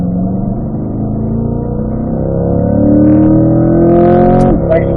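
A race car engine on a hot lap drones steadily and loud, its pitch climbing as it accelerates, with a brief clunk and higher whine near the end.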